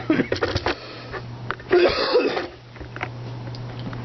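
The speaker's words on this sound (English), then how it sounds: "excuse me for coughing." A few short, harsh coughs from a person with asthma near the mic, bursting out in quick clusters over a low steady hum, with a wheezy edge to the breathing.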